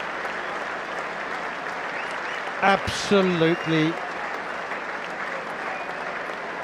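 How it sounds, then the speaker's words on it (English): A Trent Bridge cricket crowd gives Ben Stokes a standing ovation, sustained applause and cheering filling the ground while a commentator speaks briefly over it. "A standing ovation from the Trent Bridge crowd."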